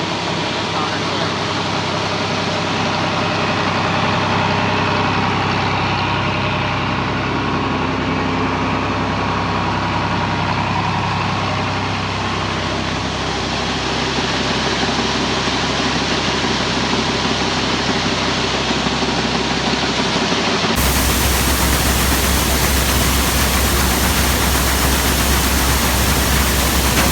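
A grain transfer auger runs steadily as beans fill a semi truck on a farm, a loud continuous rushing drone with engine rumble that shifts to a heavier, brighter roar near the end.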